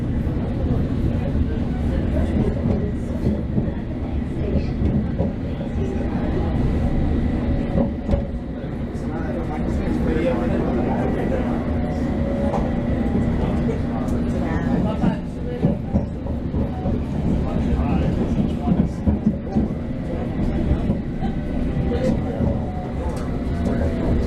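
A London Underground train on the Bakerloo, Jubilee and Metropolitan lines runs with a loud continuous rumble and rattling clatter, a low steady drone filling the carriage throughout.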